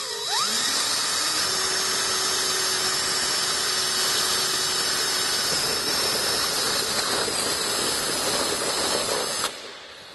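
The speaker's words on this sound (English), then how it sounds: "Now, drilling the body is really not a big factor here." A drill with a sheet-metal bit bores into a Jeep JK body while fitting rock sliders. It makes a loud, steady high-pitched whine close by for about nine seconds and then stops.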